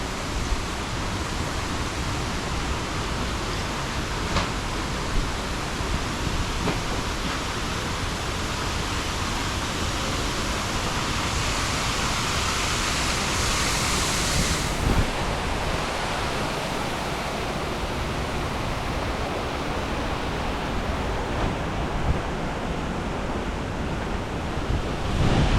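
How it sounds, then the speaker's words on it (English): Violent Hurricane Milton winds roar across a beach in a dense, unbroken rush with surf-like noise and heavy buffeting on the microphone, loud and steady throughout, with no voices. "Pretty violent winds."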